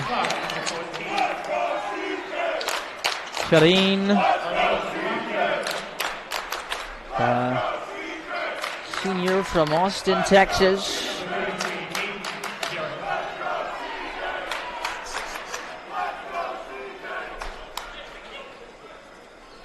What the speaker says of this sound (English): You heard the applause